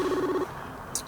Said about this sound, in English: He's not answering the phone.